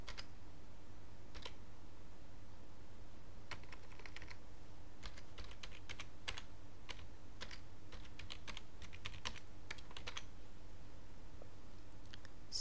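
Someone types a new password on a computer keyboard, producing soft, close keystrokes in an irregular patter with a few pauses against a quiet room hum.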